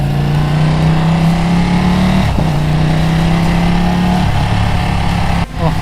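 A Ducati Panigale 899 sport motorcycle engine hums steadily at close range, with brief dips where the revs change, loud and continuous with no talking.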